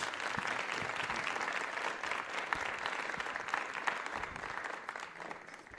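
At a learner-leadership summit, an audience gives a dense, sustained round of applause as a speaker takes the podium, a steady wash of many hands heard from within the hall.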